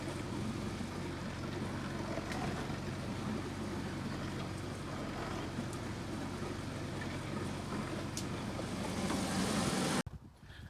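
A tractor engine rumbles steadily in a storm, a dense low droning noise with wind-like broadband roar, continuous and fairly close, cutting off abruptly near the end.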